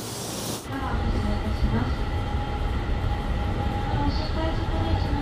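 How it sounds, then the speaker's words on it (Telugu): A train pulls into a railway station in Japan, a sudden loud onset followed by a steady rumbling roar with a hissing edge that stays close and constant. "ఇక్కడ ట్రైన్ వస్తుంది ఇంకా కాసేపట్లో మాది"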